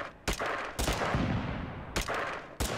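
Rapid bursts of automatic gunfire from Totally Accurate Battlegrounds, loud and close, sounding in four sharp clusters with sustained rattling fire between them and no talk.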